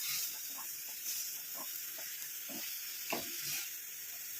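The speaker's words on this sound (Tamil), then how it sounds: "போட்டோன்னே இந்த மாதிரி நல்லா கிண்டி விட்டுட்டே இருக்கணும்." A heated homemade hair dye mixture being stirred, giving soft scraping strokes over a steady sizzling hiss, close and fairly quiet, with no talking.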